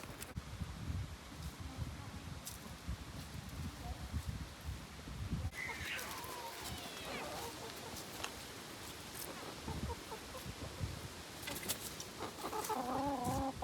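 Chickens cluck softly at a distance over rustling outdoor garden background noise, with occasional clearer clucks and calls.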